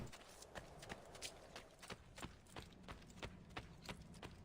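Horse hooves clip-clop in a steady trotting rhythm in the video game Assassin's Creed II, close and fairly even, over a low ambient game hum with no talking.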